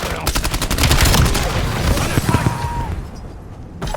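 Rapid bursts of gunfire crackle almost continuously through a Call of Duty Black Ops 7 multiplayer match as a sticky bomb is deployed, loud and dense at first, then thinning out before a final sharp burst.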